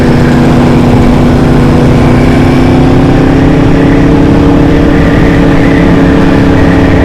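A motorcycle riding along a road through champagne country in France, its engine droning loud and steady at constant speed with heavy wind rush, no voices.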